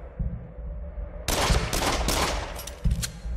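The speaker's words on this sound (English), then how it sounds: "Maybe I'm supposed to use the shotguns." Shotgun blasts in the horror shooter game Until Dawn: Rush of Blood, several loud close booming shots fired in quick succession over a low background rumble, followed by a brief lull and another thud.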